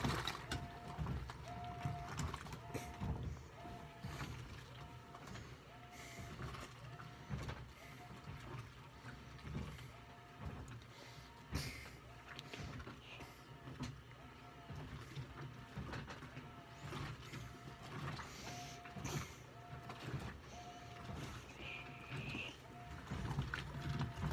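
A GE Hydrowave top-load washing machine washing towels, a steady churning and sloshing wash cycle with faint repeated mechanical whirring, continuous and moderately quiet throughout, with no talking.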